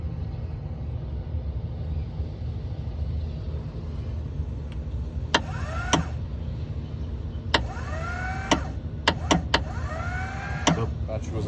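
A weak starter motor on a Kawasaki JS550 SX jet ski with a low battery makes several brief, strained whirring bursts, each cutting off quickly, over a steady low background hum.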